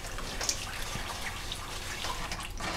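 Water is poured into a cooking pan while chicken Marsala is being made, a soft, steady trickle with faint drips and splashes that stays close and quiet, with no talking.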